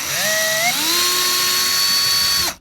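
A cordless power screwdriver whirs as it backs a screw out of the sun visor on an Opel Zafira A, its pitch rising as it spins up and then holding steady before cutting off abruptly.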